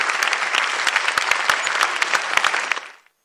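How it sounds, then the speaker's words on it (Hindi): An audience at a poetry gathering claps steadily for about three seconds, dense and even, then the applause cuts off abruptly. "जोरदार तालियों से स्वागत करूंगी।"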